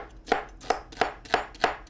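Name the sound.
chopping an onion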